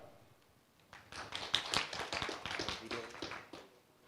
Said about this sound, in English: Please give a big applause for AX Carbon.